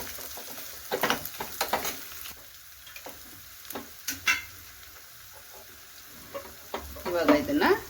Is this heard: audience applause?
no